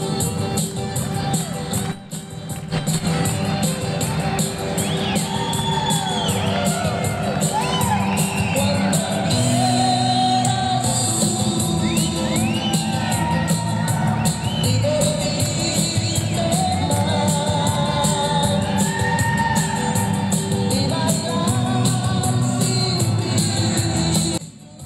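A crowd at an Alcoholics Anonymous event at a hacienda in Mexico cheers, whoops and yells loudly and continuously, with tonal music-like sounds running underneath throughout.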